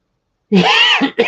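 A single close, harsh cough bursting out of silence, followed by a shorter second cough.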